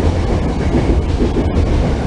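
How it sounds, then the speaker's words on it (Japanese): A commuter train rumbles past close by in Meguro, Tokyo, a loud continuous roar of wheels and wind with no voices. "電車が来てますけど"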